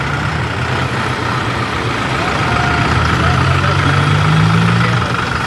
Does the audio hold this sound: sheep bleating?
no